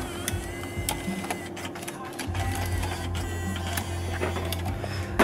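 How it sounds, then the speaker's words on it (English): A Panasonic six-CD car stereo changer mechanism ejects a disc, giving a steady mechanical whir and motor hum with small clicks that runs the whole time at close range, with no talking over it. "Let's eject this CD."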